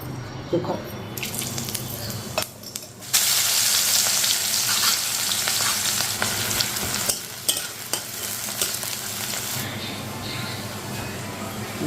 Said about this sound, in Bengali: ভাজা ভাজা হয়ে গেছে খরা খরা একদম